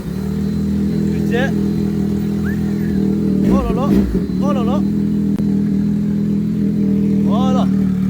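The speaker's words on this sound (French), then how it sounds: "Finalement je prends cette moto, je fais le tour" A motorbike engine idles with a steady low drone and then revs in short bursts as the rider sets off, held close and loud throughout, while a man exclaims over it.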